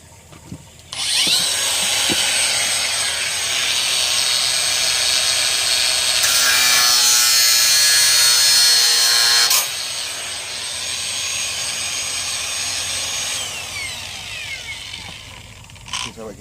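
Air pump pipe for a Hailea CPA-120 pump being cut, a steady loud rasping saw noise lasting over ten seconds that shifts in tone midway, close up and alone.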